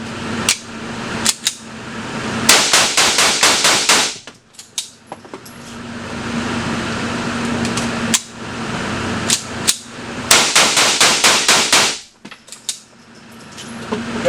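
Bullpup rifle firing as magazines are run through, several rapid strings of loud sharp shots with pauses between bursts, near and dominant, with a faint steady hum underneath.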